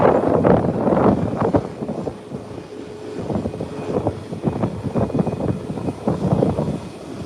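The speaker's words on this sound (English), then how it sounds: "It's coming by us now. It's a little Cessna and it's in the air already." A small Cessna airplane passes nearby, its engine drone rising and falling as a broad rumbling roar mixed with heavy buffeting wind noise on the microphone, loud and close, with no one talking.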